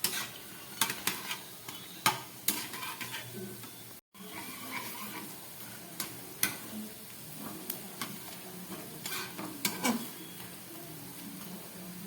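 Coriander-leaf pakoras are stirred in a kadai after frying: a quiet bed of sizzling oil with repeated sharp scrapes and clicks of the spatula against the pan, close and irregular.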